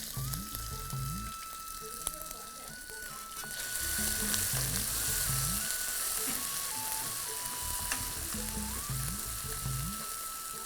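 Garlic frying in oil with cinnamon, bay leaf and cumin for a Lahori chicken curry with green chana, a steady loud sizzle throughout, while a faint repeating melody plays in the background.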